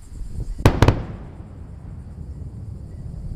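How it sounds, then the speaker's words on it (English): Twin sonic booms from a Falcon 9 first stage landing at LZ1 under cloudy skies, two sharp distant thuds in quick succession followed by a rumbling roll over steady outdoor noise. "a spectacular sonic boom to cap it off"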